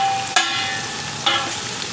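Onion-tomato masala with salt and biryani spice fries in a pan with a steady, close sizzle, broken by two brief stirring clatters, and no talking.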